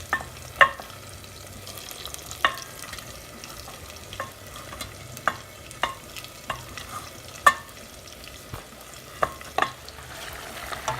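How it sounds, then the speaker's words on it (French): Smoked meat and tomato stirred in a cooking pot for a squash (mbika) dish, with a low simmering bed broken by scattered scraping knocks of a spoon against the pot, close and irregular, with no talk. "Après, on tourne pour mélanger le tomate et la viande."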